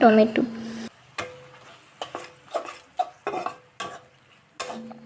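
A spatula stirs and mixes spiced chickpea bhaji with chili powder in a pan. Intermittent clinks and scrapes sound against the metal over a light sizzle, with a brief voice at the start.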